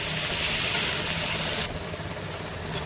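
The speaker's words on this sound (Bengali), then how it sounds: "ভেন্ডিটা ইয়াতে দিয়ে দিলাম ভেন্ডিটা একটু লেড়ে নেবো আমি ভালো করে" Okra added to fried onion in a pan for bhindi sabji, giving a steady close sizzle with a soft rustle of stirring that grows brighter and hissier partway through, with no voices.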